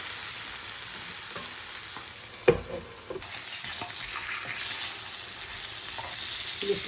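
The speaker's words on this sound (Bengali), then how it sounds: "ইলিশ মাছের ফ্রাইটা হয়ে যাচ্ছে, মনে হয় মাছটা ভালোই হবে।" Hilsa fish fries in oil with a soft, steady hiss at low volume, interrupted by a brief clatter from a utensil partway through.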